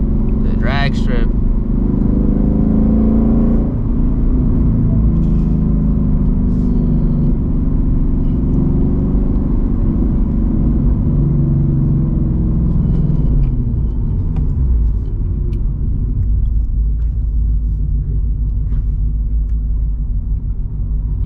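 Ford Mustang GT S650 V8 with its interior gutted, set to drag strip mode, giving a loud low rumble heard from inside the cabin, steady with slight swells, while a person talks over it.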